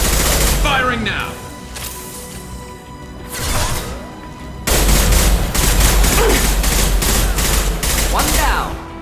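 Mass Effect 2 gunfire: dense, sustained bursts of rapid shots with booming impacts, pausing briefly and then returning louder and heavier, with a voice speaking over the battle.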